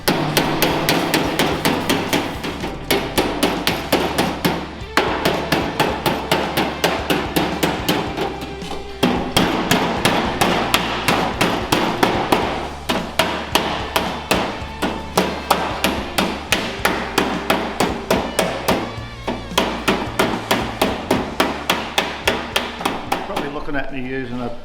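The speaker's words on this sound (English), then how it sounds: "Darren and I will both go along with the hammers and knock it up" Hammers beat a steel door skin panel into place on a car door, producing rapid, continuous sharp metallic knocks with near-constant rhythm, short pauses between bursts, heard close with no talking.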